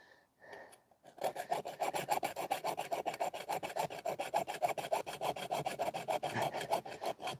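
A dull hacksaw blade cuts through metal on a boat, a fast run of steady rasping back-and-forth strokes, close and loud, following a couple of brief knocks.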